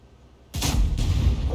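A KV-2 heavy tank in the World of Tanks video game fires its big gun, a sudden booming blast after brief quiet followed by a second impact crack, loud and echoing.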